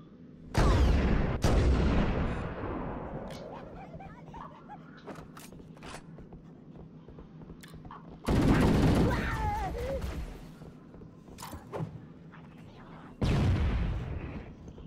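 Grenade explosions in the video game Halo Combat Evolved strike as three loud, booming blasts with long rumbling tails, separated by scattered gunfire crackles and faint voices.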